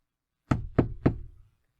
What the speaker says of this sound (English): A knock sounded at her door.